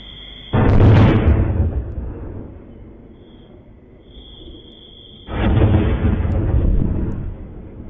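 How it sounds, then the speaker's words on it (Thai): Two heavy booming artillery blasts a few seconds apart, heard at night in Nam Yuen district, Ubon Ratchathani, Thailand, each a deep loud thud with a long rumbling decay, over a faint steady high tone. "ได้ยินเสียงปืน ใหญ่ตลอดทั้งคืนค่ะ"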